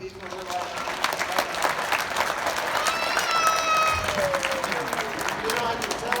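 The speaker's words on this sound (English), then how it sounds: "can we give a hand of applause to our AV people?" Sustained applause from a convocation crowd honoring the AV team, dense steady clapping with a few voices and a faint musical tone rising through the middle.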